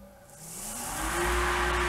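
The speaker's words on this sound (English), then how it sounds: "That's the sound of dust collection." A workshop dust collection system spins up, a low motor hum rising in pitch and loudness over two seconds into a steady, close whine and rushing air.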